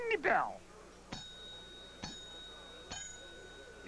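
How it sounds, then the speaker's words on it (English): A table service bell in a fancy dining room is struck three times at steady intervals, each a bright ringing ding with a lingering tone, following a brief vocal sound at the start. "you merely ring the bell."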